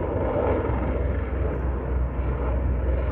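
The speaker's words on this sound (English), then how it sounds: "I'm not going to try to compete with the helicopter." A steady low engine roar of a helicopter droning overhead, loud and unbroken throughout.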